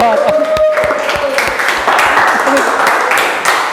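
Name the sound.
class applauding a student's answer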